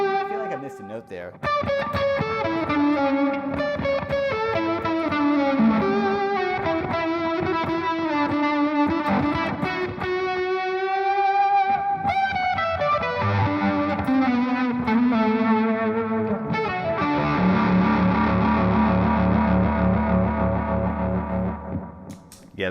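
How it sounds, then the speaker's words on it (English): An electric guitar plays a lead solo through effects pedals including a retro vibe, octave fuzz, analog delay and a Strymon Deco, with sustained distorted notes, bends and echoing repeats, loud and up front throughout. "that's Jam Pedals, Retro Vibe, Dusky, Octave Fuzz, Maleko, 16 analog delay, and my Strymon Deco is actually in there"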